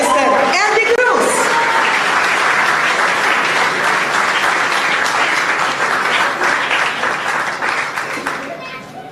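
Loud, dense applause from an audience welcoming a sports minister at a sports excellence awards press event, many hands clapping near and steady, with scattered voices mixed in and the clapping fading out toward the end.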